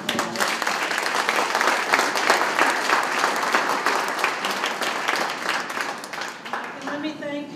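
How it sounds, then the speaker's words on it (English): A crowd at a Madison Park Development Corporation ribbon cutting claps loudly for the project team, a full, close wash of applause that slowly thins toward the end as a voice begins speaking. "Give them all a round of applause."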